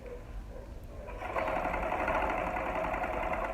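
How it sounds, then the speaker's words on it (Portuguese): A sewing machine stitching a safety seam on fabric for pearl-trimmed baby shoes, starting up after a second of quieter motor whir and then running in a steady, close, buzzing rattle. "A gente vai fazer a costurinha de segurança."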